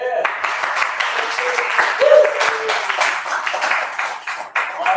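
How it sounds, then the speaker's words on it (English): Seminar audience clapping for a guest at the back of the room: a dense, continuous patter of hands at close range, with voices talking over the applause. "doing a round of applause for Steve in the"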